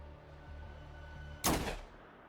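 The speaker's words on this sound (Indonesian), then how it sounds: "menembakkan satu peluru ke kepala Gianna agar terlihat seperti dibunuh" A single sharp gunshot in a film scene, loud and abrupt with a short decaying tail, over a quiet low background hum.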